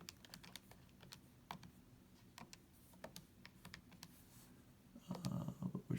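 Quick, light button presses on a calculator keypad, tapped in an irregular run of sharp clicks, close and clear, growing busier and denser near the end.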